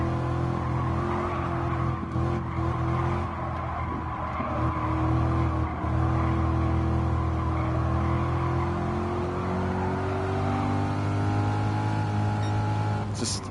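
Mid-engine Chevrolet race car driven in the Gran Turismo racing game, a sustained engine drone rising and falling through gear changes with tire squeal and skidding, loud and continuous without talk.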